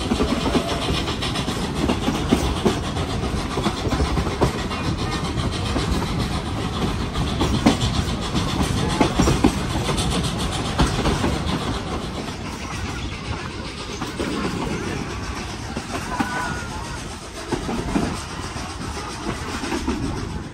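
A heritage train on the Zig Zag Railway near Sydney, Australia rumbles along continuously, its engine drone and wheel clatter loud and close throughout with no voices.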